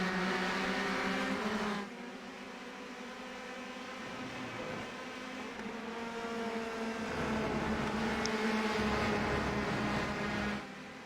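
A pack of Grand Prix race cars running close together, engines droning with steady sustained tones that shift in pitch as the bunch passes, loud and continuous with no voices.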